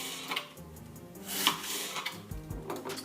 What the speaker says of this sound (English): I'm just going to cut it into strips.